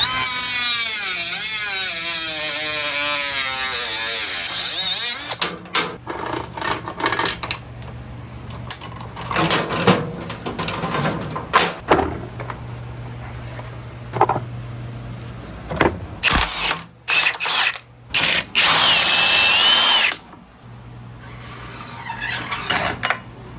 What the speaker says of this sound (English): I'm going to go ahead and cut the chain.